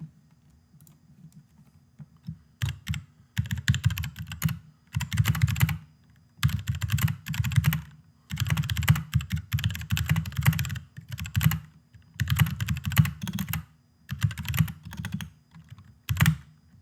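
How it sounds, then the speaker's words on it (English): Bursts of typing on a GK61XS mechanical keyboard with stabilizer-modded keys and SabaKeys keycaps, used without a mouse mat, come in quick clattering runs separated by short pauses, close and crisp, with no voices. "hear how these things sound"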